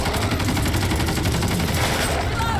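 Rapid submachine gun fire in the zombie shooter Back 4 Blood, a continuous loud stream of close shots across the whole moment, with no pauses and no one talking.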